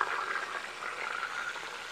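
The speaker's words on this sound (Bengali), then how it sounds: "আমাদের মুরগি ভাজা হচ্ছে।" Chicken fries in a pot for an Arabian kabsa rice dish, a faint, steady sizzle and bubbling hiss that runs evenly throughout with no talking.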